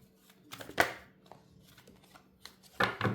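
A tarot card is drawn and handled from the deck, giving soft papery rustles and shuffling flicks in a few short bursts, close and fairly quiet.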